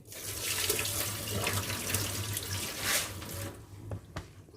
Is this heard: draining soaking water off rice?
yes